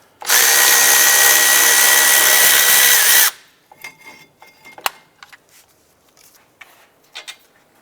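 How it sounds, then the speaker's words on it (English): A power tool on a 2006-2011 Cadillac DTS caliper bracket bolt runs in one loud, steady burst for about three seconds, then stops, followed by scattered metallic clinks and handling noises. "We're going to loosen and remove the upper bolt."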